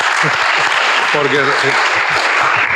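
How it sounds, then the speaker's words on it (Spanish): An audience at a university tribute ceremony gives sustained applause, loud and dense throughout, with a voice briefly rising through the clapping midway. "un aplauso para todos ellos"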